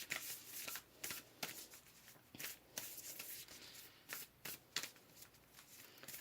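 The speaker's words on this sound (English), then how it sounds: "Let's go ahead and pull another card." Tarot cards being shuffled and pulled by hand, a close, soft series of riffling and flicking bursts with brief gaps, quiet and without talk.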